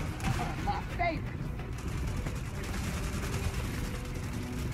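Gunfire from the Gears of War 4 video game on Xbox One, a dense continuous barrage of shots and bursts across the whole stretch, loud and steady with game sounds mixed in.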